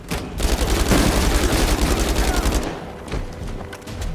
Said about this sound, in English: I just had to blind fire there.